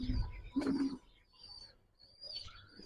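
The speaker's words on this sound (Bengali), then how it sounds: "ফাঁকে ফাঁকে সিলভার শেডের একটা কবুতর দেখেন" A silver-shaded pigeon at a loft of tumbler pigeons, giving low soft coos close by, with faint chirps and quiet gaps between calls.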